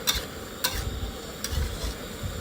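Luffa gourd stir-fried in a pan outdoors, with a spatula scraping and clacking a few times against the pan over a soft steady sizzle.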